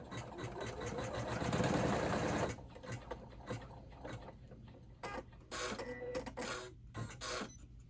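An embroidery machine stitches a tack-down line on a wallet in the hoop, a loud close rapid needle chatter that cuts out after a couple of seconds and comes back in short bursts between quieter pauses.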